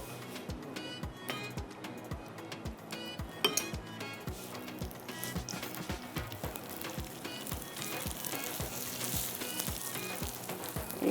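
Food frying in a pan, a continuous sizzle under a regular series of soft thuds repeating about every half second, fairly faint and close.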